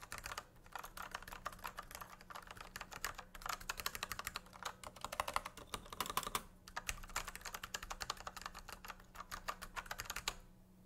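Rapid, continuous typing on a computer keyboard at a home desk, the keystrokes clicking close and crisp in quick bursts with a few brief pauses, no voices.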